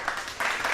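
A brief burst of studio audience applause, a short dense patter of clapping that swells and dips.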